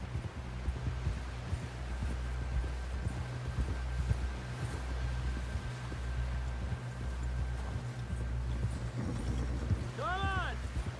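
A horse gallops in the video game Red Dead Redemption 2, rhythmic hoofbeats pounding steadily under a low hum, ending with a brief whinny-like call.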